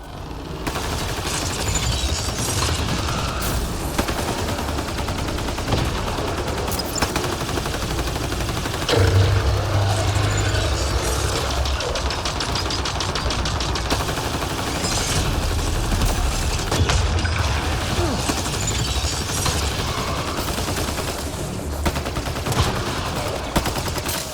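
Sustained video game gunfire from Mass Effect: Andromeda, rapid automatic bursts and shots with occasional shattering impacts, loud and continuous across the whole stretch with no clear talk.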